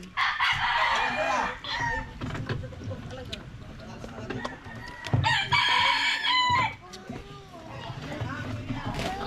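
Fighting roosters crow and cluck nearby, several loud cock-a-doodle-doo calls rising over a background of people chattering and general outdoor commotion.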